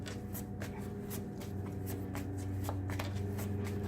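Tarot cards being pulled and handled from a deck, a series of crisp papery slaps and riffles repeating irregularly and close by, over a steady low background hum.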